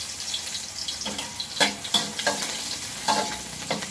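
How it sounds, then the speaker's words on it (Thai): Chopped garlic dropped into a small amount of oil in a pan, a close, continuous sizzle and crackle with scraping stir strokes throughout. "นี่เราใส่กระเทียมที่เราสับหยับจับเอาไว้ใส่เยอะๆเลยนะคะ"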